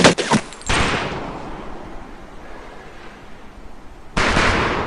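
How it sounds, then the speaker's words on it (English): A rifle fires in short bursts in the Medal of Honor Pacific Assault video game, with sharp rapid volleys at the start, a decaying echo, and another burst near the end. "Fire the weapon in short bursts only."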